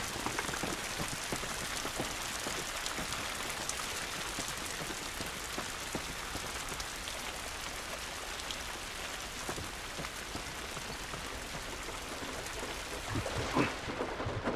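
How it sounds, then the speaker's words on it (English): Steady rain patters on surfaces in The Last of Us game, a continuous soft hiss with scattered drips and faint distant rumbling throughout, no voices. "This rain ain't gonna do us any good."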